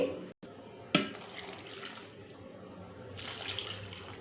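Water is poured into a cooking pot of split chickpea lentils with salt, chili and turmeric, a soft steady splashing stream lasting a few seconds, quiet and close, with a brief clatter near the start.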